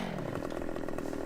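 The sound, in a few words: chainsaw in Farming Simulator video game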